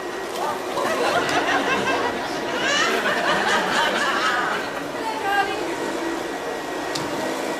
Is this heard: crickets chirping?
no